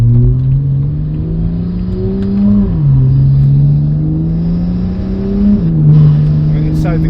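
A 2011 BMW 335i in sport or manual mode accelerates hard through two upshifts, its engine note climbing steadily then dropping at each shift, loud and close from inside the cabin with occasional burbles.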